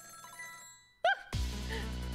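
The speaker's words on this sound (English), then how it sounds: "Every time that phone rings, it's bad news." Telephone ringing in the video game Ghost Trick: Phantom Detective, a short electronic ring that cuts in over quiet background music, followed by a sudden louder dense tone, with no talking.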